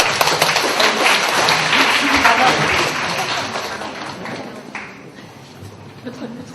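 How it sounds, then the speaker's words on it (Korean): A seminar audience claps loudly for a middle school principal, the applause gradually thinning and fading out over several seconds, with some voices underneath. "자, 박수로 교장 선생님."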